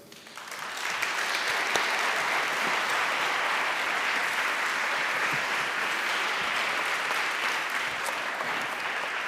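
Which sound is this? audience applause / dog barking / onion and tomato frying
audience applause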